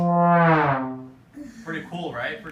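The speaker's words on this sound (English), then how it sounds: "what's unique about the trombone is that you have a slide" A trombone slides in a smooth, rising and falling glissando lasting about a second, close and full, followed by a few short lower notes.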